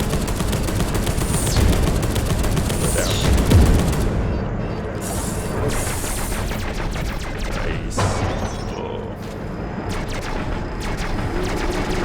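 Guns firing in Space Hulk: Deathwing co-op, dense rapid automatic bursts and heavy booming shots rattling almost continuously, loud and close, with short pauses between volleys.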